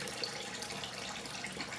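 Cold tap water runs steadily into a sink after shaving, a continuous broadband rush heard alone without any speech.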